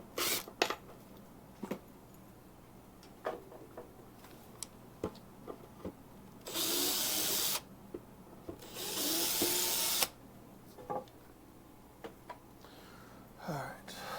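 A power drill boring pilot holes in an animatronic wings build, two sustained whirring runs of a few seconds each amid scattered workshop knocks and ticks in a quiet room.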